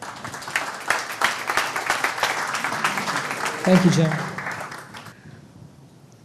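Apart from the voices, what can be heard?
audience applause for a speaker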